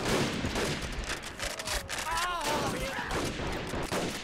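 Grenade blasts and gunfire in a World War II battle in the Men of War: Assault Squad 2 game with the Rising Sun mod: a rough, sustained barrage of bursts and rattling shots, with someone talking over it.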